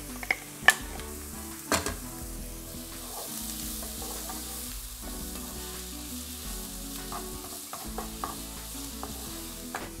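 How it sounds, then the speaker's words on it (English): Garlic sizzles in a pan with semi-soft onions while beef short ribs are cooked, a steady frying hiss with a few sharp clinks of utensils near the start and light stirring throughout. "we added in the garlic and let it cook for like 20 seconds"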